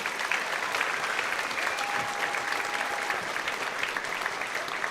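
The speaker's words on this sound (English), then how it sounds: "Let's have another round of applause for this fourth grade band." An audience at a school spring concert applauds a fourth grade band, steady dense clapping filling the hall for the whole stretch, with a brief faint tone sounding through the middle.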